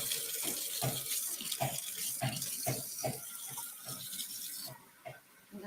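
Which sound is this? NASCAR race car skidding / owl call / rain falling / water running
water running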